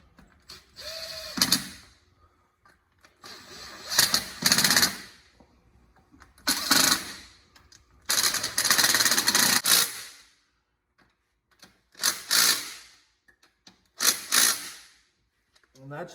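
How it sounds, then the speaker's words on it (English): A small impact driver running down bolts one after another, working from the middle out, during an engine rebuild on a 1979 Cadillac Eldorado, in about six loud close bursts of rapid hammering with short quiet pauses between them. "I'm just gonna take my little impact driver here and run them down"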